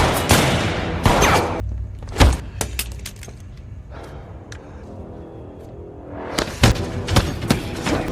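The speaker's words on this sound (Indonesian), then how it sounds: "Si Om pun dengan segera menembak si Fizzle Bomber, namun tembakan si Om meleset" Gunshots and fighting in a time-travel film scene: sharp loud bangs in bursts at the start and again near the end, with crashes and clatter, separated by a quieter rumbling stretch.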